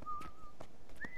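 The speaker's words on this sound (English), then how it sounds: "Somebody's whistling." A character whistling in the Guild Wars 2 video game, a short melodic tune of sustained clear tones with a pitch step upward near the end, heard alone over faint background ambience.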